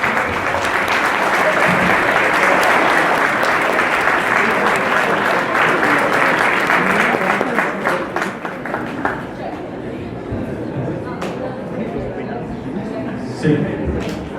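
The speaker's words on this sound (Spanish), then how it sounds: "con su aplauso vamos a recibir al maestro Javier Milei" An audience at FES Acatlán in Mexico City applauds to welcome Javier Milei, loud dense clapping that stays steady, then thins and fades to scattered claps and crowd murmur toward the end.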